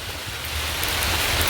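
Rain falls close to a house, a soft, even wash of drops that holds steady and grows slightly fuller for a moment, with no voices.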